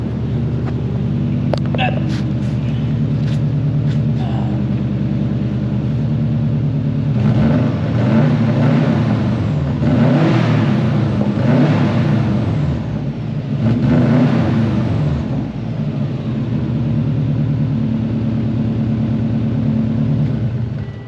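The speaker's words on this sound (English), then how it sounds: "everyone loves a rev up. Rev up for the boys, come on." A bugeye Subaru WRX engine idles with a low rumble, then is revved in a few rising and falling surges before settling back to idle, with someone talking over it.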